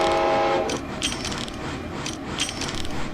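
Cartoon train Casey Jr. rolling along the rails with rhythmic mechanical clacking and bursts of rattling, preceded by a short whistle-like tone at the start.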